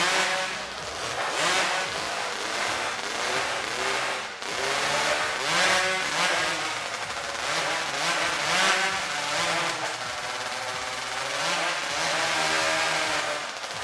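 Modified hot saws at a timber sports competition warm up with loud, continuous high-revving two-stroke engine snarls, pulsing up and down in rapid bursts close by, with no clear speech over the din.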